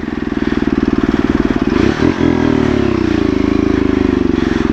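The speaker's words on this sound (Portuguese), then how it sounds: "A moto não anda, não." A struggling motorcycle engine revs loudly and steadily close by, with a brief dip near the middle before the throttle picks back up, set on a riverside descent where the bike barely moves.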